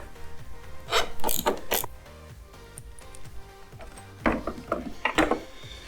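Ratchet wrench clicking rapidly in short bursts while removing 10 mm bolts on an Indian Chieftain Limited motorcycle, close and crisp, with pauses between the bursts.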